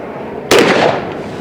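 Single loud gunshot from a 10mm Auto pistol firing a 180 grain hardcast lead bullet over Accurate Arms No. 9 powder: a sharp crack outdoors, then a decaying echo, no voices.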